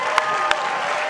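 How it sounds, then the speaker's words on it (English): A brief burst of crowd applause, dense clapping at steady loudness with a couple of sharper claps standing out. "One more round of applause."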